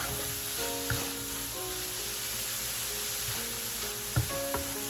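Green onion pieces sizzle as they are stir-fried with shrimp and egg fried rice, a constant loud hiss with a few scraping stirs and a steady hum running underneath.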